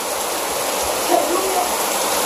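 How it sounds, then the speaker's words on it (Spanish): Heavy rain falls steadily outside an open bedroom window on a dark evening, a dense continuous hiss that fills the room, close and loud, with a faint voice murmuring beneath it. "Pero miren, empezó a llover duro."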